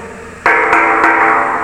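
Three sharp knocks strike an empty hollow metal water tank, each leaving a ringing, bell-like resonance that lingers, close and loud.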